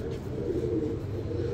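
A striped Kabli-type pigeon coos close by, a low, soft, rolling call that holds steady through the short moment.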